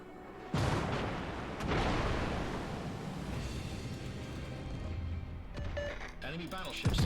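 A battleship in World of Warships fires HE shells: a heavy booming salvo sets off a long rumbling roar, followed by a second blast, with game mechanisms clicking near the end.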